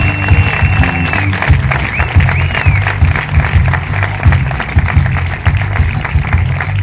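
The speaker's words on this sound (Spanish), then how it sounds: "Un aplauso." Audience applause at a concert in San José, steady clapping with scattered whistles filling the whole stretch, loud and close over a low musical drone.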